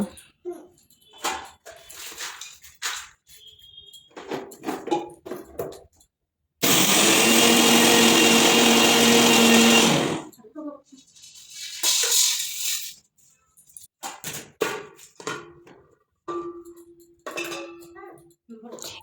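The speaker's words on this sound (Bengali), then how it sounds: "এবার ছাতুটা পিষে নিব" Roasted chickpeas are ground into sattu flour in an electric grinder, a loud, harsh whirring burst lasting a few seconds between stretches of household talk and clatter.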